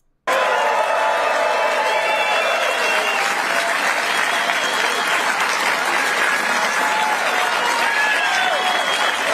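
Sustained crowd applause and cheering at a political rally, a loud unbroken wash of clapping with scattered whoops and shouts carrying on for over nine seconds.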